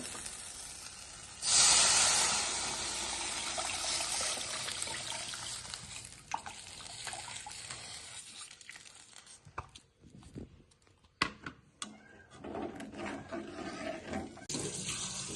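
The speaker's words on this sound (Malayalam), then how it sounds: "ഇതിലോട്ടേക്ക് നമ്മൾ പുളിവെള്ളമാണ് ഒഴിക്കാൻ പോകുന്നത്." Tamarind water pours into a pan for rasam with a loud, steady splashing hiss, then gives way to intermittent clinks and bubbling as the flow stops.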